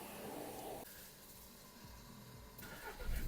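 A 2005 Volkswagen Golf Plus with a 1.6 MPI petrol engine cranks and catches about a second in, then settles into a steady, soft idle with a brief hissy surge near the end.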